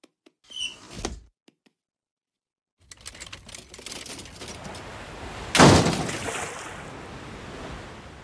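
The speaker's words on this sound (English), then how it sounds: "Can you open the sliding door?" A sliding door in a house perched near a cliff rolls open with a loud scraping rush, after a few quiet knocks and a pause, then open-air wash like surf carries on behind it.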